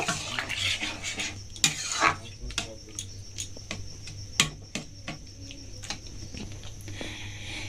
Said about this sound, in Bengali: এইবারে উল্টোতে এবার এটা ভালোভাবে মিশিয়ে নেব